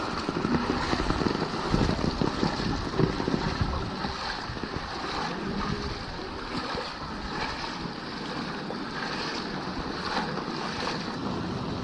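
Non-stop rain falls outdoors in Kochi with roadside drains overflowing, a steady broadband wash of water and wind noise across the microphone, constant and fairly close, with no talking.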